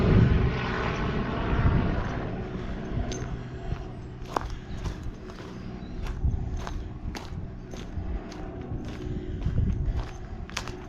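A low, rumbling helicopter engine drone hangs in the air overhead throughout, fading slightly, with crunchy footsteps ticking along nearby on a walking route near Grenoside, Sheffield.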